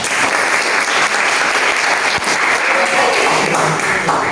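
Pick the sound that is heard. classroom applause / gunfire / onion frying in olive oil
classroom applause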